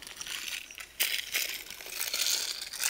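A plastic bag is crinkled and torn up close, giving bursts of crackling and rustling that swell and fade irregularly, with a sharp crunch about a third of the way in.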